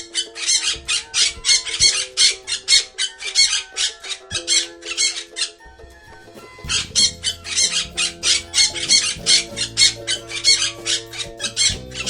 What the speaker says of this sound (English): parrot, parrot माने तोता parrot